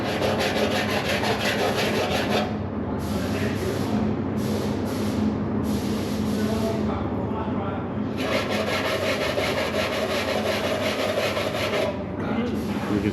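A wire brush scrubs the heated frame of a 1964 Chevelle Malibu SS in a steady, harsh rasp, broken by short pauses between strokes.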